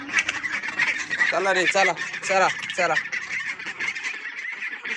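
Ducks in a village farmyard give a run of loud, close, nasal quacks and honks in quick bursts. A voice speaks among them.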